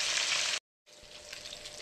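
Fish frying in a large wok with a steady, dense sizzle, briefly cut to silence before the crackling resumes, close and loud with no talk.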